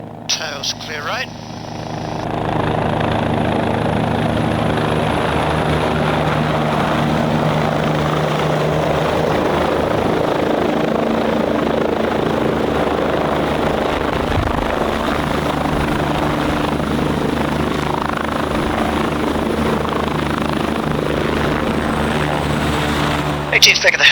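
Airbus EC145C-2e medical helicopter landing: a loud, steady rotor and turbine roar fills the cabin throughout, with a crew voice talking over it.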